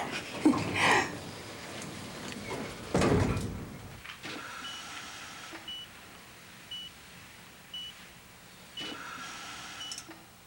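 Elevator-style sliding door rumbles shut after a close button is pressed, followed by a quiet hum and a few soft, evenly spaced electronic beeps in a late-night hospital setting.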